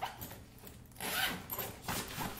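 Zipper on the inner zip pocket of a makeup kit being pulled open in a few short rasping strokes, close by and fairly quiet, with no talk.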